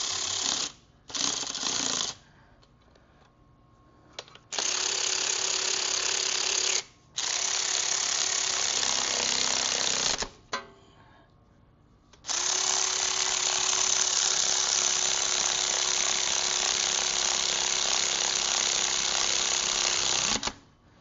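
A ratchet tightens bolts on a Honda torque converter, producing loud, close, fast clicking runs in several long bursts separated by short silent pauses, the final burst lasting about nine seconds.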